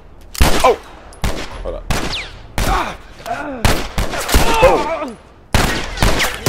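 Loud gunshots ring out in The Last of Us Part 1, several sharp separate bursts spaced a second or so apart, each with a short decaying tail, while a voice exclaims between them.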